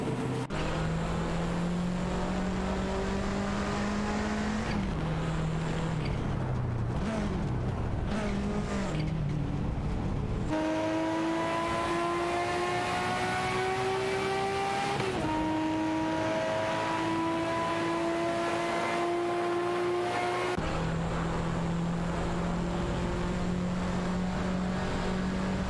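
Race cars in a video game, including a Nissan Skyline GT-R R32 and a Ferrari 288 GTO, roar steadily through long rising gear pulls with shifts, with faint tire squeal and no talking.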